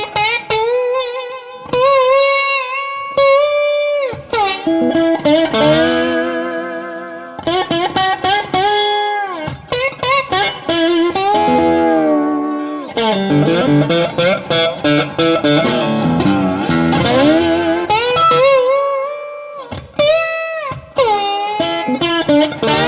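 Electric slide guitar played with added gain for sustain, loud distorted sliding notes and chords that glide and ring out, with effects, in continuous phrases without talk.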